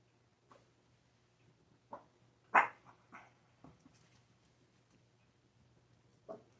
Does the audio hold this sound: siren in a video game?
no